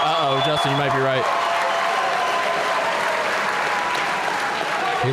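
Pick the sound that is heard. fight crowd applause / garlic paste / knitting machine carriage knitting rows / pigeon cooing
fight crowd applause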